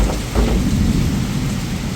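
Heavy rain pours down with deep rolling thunder, a loud, continuous wash of downpour beneath a low booming rumble.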